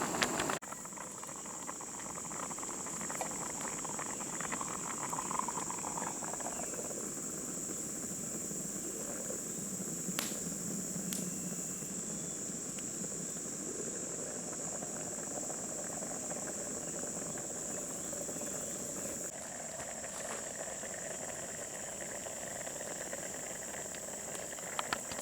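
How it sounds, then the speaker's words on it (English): Food simmers in a covered pot over a camp stove on a primitive solo camping trip, a faint steady hiss and soft bubbling that runs continuously with a thin high whine in the background. "it's coming to a boil, so we're going to reduce the heat and let it simmer for 7 minutes covered"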